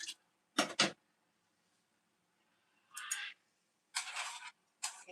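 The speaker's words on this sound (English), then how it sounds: "Can you guys hear the birds?" Birds calling outdoors in short bursts of squawking chirps, a double call early then several scattered calls separated by near silence, fairly faint, with no talking.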